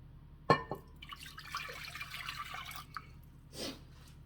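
Water poured into a pot for stone-ground grits on a stove, a sharp splash onset followed by a few seconds of steady, moderate trickling and a brief second pour near the end, with no talking.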